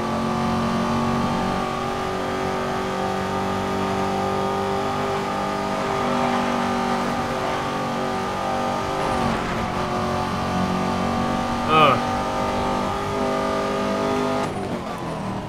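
A Ford GT race car engine in Need for Speed: Most Wanted (2012) roars and revs continuously at close range, with gear shifts and a brief tire squeal near the end.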